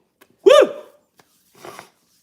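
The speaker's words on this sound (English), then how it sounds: "I'm about to sneeze." A single close, sharp human sneeze bursts out, followed by a quieter breathy exhale or vocal sound a second later.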